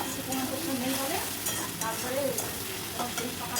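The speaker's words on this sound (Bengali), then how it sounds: "দিচ্ছি ওপর থেকে একটু টক দই, দিয়ে মশলাটা যতক্ষণ কষাবো তেল ছেড়ে যতক্ষণ না আসছে," Spice masala with sour yogurt sautéed in oil for a lote fish jhuri, a steady close sizzle with soft scraping stirs running throughout, no talking.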